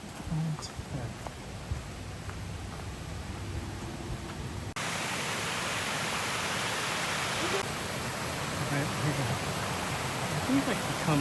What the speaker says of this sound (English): There's the falls.